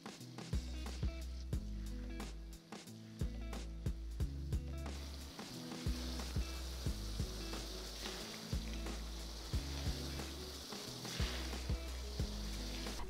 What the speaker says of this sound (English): Gently put in the chili paste and stir.